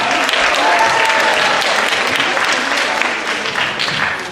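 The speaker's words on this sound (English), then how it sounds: "Give him a round of applause." Applause from an eighth-grade step-up day audience welcoming a school science supervisor, a dense, steady wash of many hands clapping at close range, holding loud for about four seconds and easing slightly toward the end.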